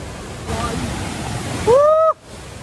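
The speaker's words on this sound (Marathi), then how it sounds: "आता तुम्हाला वॉटरफॉल दाखवतो." Tapalwadi waterfall near Neral gives off a steady wash of rushing water, with a person's voice breaking over the roar near the end.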